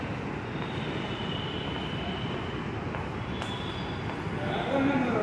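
A metro train runs with a steady rumbling, rattling roar of wheels on track, close and continuous, a thin squeal rising briefly near the end.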